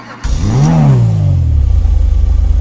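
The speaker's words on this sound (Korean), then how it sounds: "제가 일단은 배기음 들어보겠습니다." A Pegassi Monroe with its engine in the rear is revved in GTA 5: a single loud exhaust rev swells and rises in pitch, then falls back and settles into a steady low idle, with no talking.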